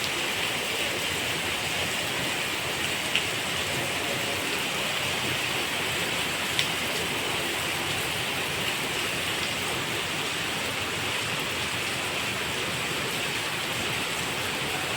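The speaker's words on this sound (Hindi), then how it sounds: "वर्षा" Steady, dense rain falls continuously on surfaces, a close, even hiss of drops with no pauses, heard alone without voices.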